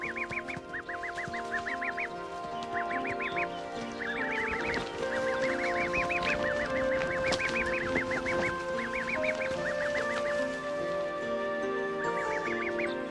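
Young geese and three-day-old goslings honking near steep cliffs, repeated bursts of nasal honks in quick runs, layered over a constant background of other calls and sounds.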